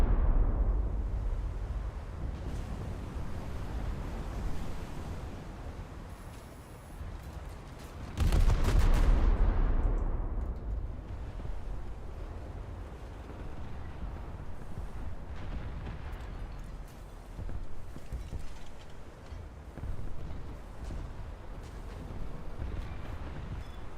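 A torpedo strike in a naval warfare game lands as a loud, booming blast about a third of the way in, set against a continuous roar of gunfire and explosions that rumbles throughout.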